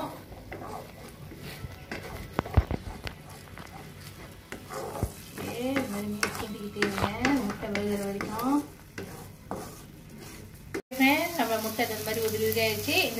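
Spicy fried egg being stirred and scraped in a hot pan, with steady sizzling and repeated spatula scrapes and clinks, partly overlaid by music, with a brief dropout near the end.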